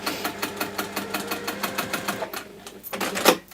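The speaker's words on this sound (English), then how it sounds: "I'm just sewing up my turning through gap, by the way." A domestic sewing machine stitches closed the turning gap of a waxed bag, running in a steady rapid mechanical rhythm up close, pausing briefly, then starting again with a louder clunk.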